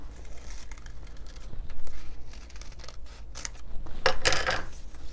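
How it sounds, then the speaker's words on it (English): Scissors snip a small heart shape out of folded paper for a heart doily, giving a few crisp crunching cuts close by, with the brightest cluster near the end over a quiet room. "And then I'm going to cut another little heart out of it."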